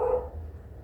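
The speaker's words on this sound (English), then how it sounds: "And that's my dog barking." A single short, close bark from a pet dog indoors, clear and fairly loud, fading quickly into quiet room sound.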